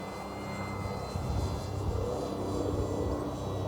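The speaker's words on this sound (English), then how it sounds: "I can hear a helicopter off to my right." A faint, distant helicopter engine drones steadily in the background, a low continuous hum that grows slightly louder toward the end.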